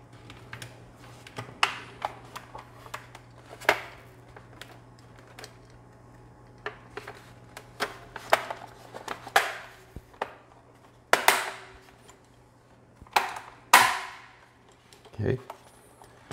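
Plastic tabs of a Commodore SX-64 keyboard case snap into place in a series of sharp, close clicks and cracks spread irregularly over several seconds, with softer handling noise between them.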